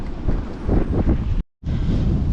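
Strong wind in Egypt roars across the microphone in heavy, loud buffeting gusts, blowing sand about, with a brief dropout of total silence partway through before the rushing resumes.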